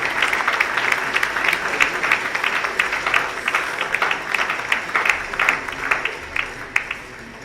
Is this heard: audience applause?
yes